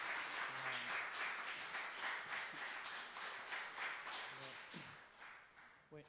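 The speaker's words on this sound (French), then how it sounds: "Je pense que nous pouvons applaudir pour le Seigneur pour ce nouveau témoignage." A church congregation applauds at a Sunday service in Gatineau, a steady, fairly quiet wash of clapping that holds for several seconds and then fades, with faint voices underneath.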